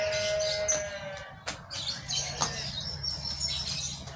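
A small lovebird chirps with sharp, high, repeated tweets and short whistles, close by over faint background noise.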